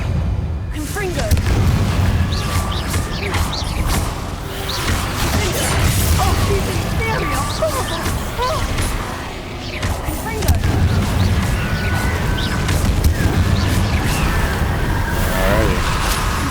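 Fire-blast spells cast in Hogwarts Legacy during a fight with zombies, a dense run of crashing booms and bursts that continues loudly and steadily throughout, with speech mixed in among the combat noise.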